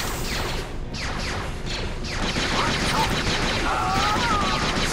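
Blaster shots in the video game Jedi Knight II: Jedi Outcast, several sharp zapping bursts in the first couple of seconds over a dense, noisy background of game sounds, followed by whooshing effects.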